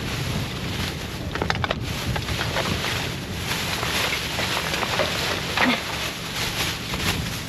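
Strong gusting wind buffets the microphone, a rough continuous roar that rises and falls throughout.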